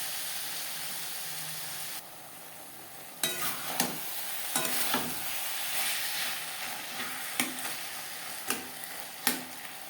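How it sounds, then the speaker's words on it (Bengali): Spice paste with onion and tomato being stirred in a frying pan for a Bengali bhetki fish-bone curry: a soft oily sizzle under repeated sharp scrapes and knocks of a spoon against the pan, close and irregular. "পেঁয়াজ টমেটোর সাথে মশলা বেশ ভালো করে মিক্স করে দেবো।"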